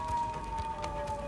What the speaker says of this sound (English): There's a siren. This could be a radioactive storm coming in.